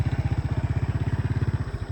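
A vehicle engine with a dry turbo runs on a road through a small forest village in northern Laos, a loud, close, fast regular low throb that chugs evenly without pause.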